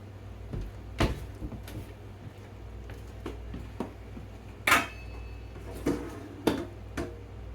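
Rummaging through a kitchen cupboard for a pot lid: scattered knocks, clanks of pots and pans, and cupboard thumps, with a few louder metallic bangs among quieter shuffling.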